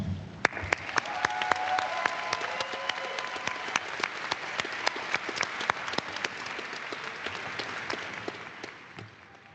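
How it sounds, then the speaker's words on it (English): A large graduation audience at a college ceremony claps for nearly ten seconds in a dense, steady ovation, with a few sharp individual claps standing out near the front. "It's time you give your loved ones a round of applause."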